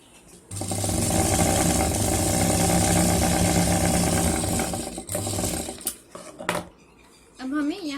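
A sewing machine stitches a fabric school bag at close range, a loud continuous mechanical whir for several seconds that then breaks into short uneven bursts, clicks and handling noises, with a brief pause before a final burst.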